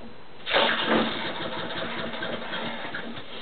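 A lawn mower engine is pulled to start, catching with a sudden rise and then running at a steady mid-pitched idle, close and alone.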